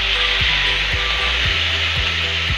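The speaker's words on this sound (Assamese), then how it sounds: "এয়া তেল গৰম হোৱাৰ পিছত আমি মাংসটো দিলোঁ।" Chicken meat frying in hot oil in a pan for a local chicken curry, a steady loud sizzle with a few scraping stirs of a utensil, no talking.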